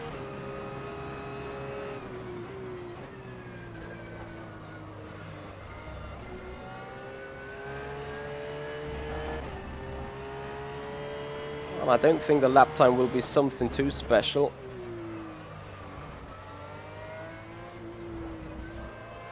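A mid-engine GT3 race car at Silverstone in rFactor 2 drones with a steady engine note throughout, then briefly rises into a louder, choppy burst of revs and shifts before settling, with someone talking over it the whole way.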